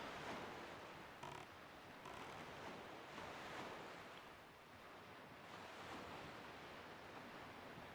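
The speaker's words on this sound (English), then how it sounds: "with the waves rising and falling, it can really throw off your aim" Ocean waves roll and wash continuously across the open sea in The Legend of Zelda: The Wind Waker, a steady broadband surf that swells and eases without any voices.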